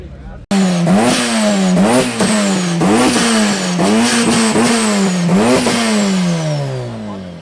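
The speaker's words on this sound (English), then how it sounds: "Everybody revving." A crowd of supercharged cars revving hard at a car meet, engines rising and falling in repeated loud bursts under people talking nearby, with tyre smoke in the air.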